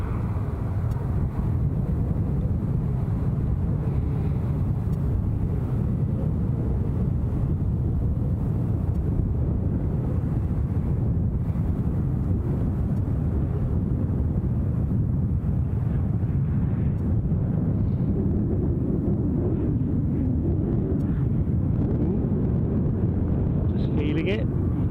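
Steady strong wind buffets the microphone at an airport, a continuous loud low roar with no breaks.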